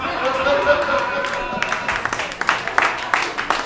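A tavern comedy-showcase crowd breaks into scattered clapping that thickens after a moment, mixed with crowd chatter and voices.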